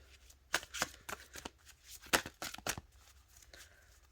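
Oracle cards are shuffled and pulled from the deck, giving a series of crisp riffling and sliding bursts with short gaps between them, close to the microphone and fairly quiet, with no talking.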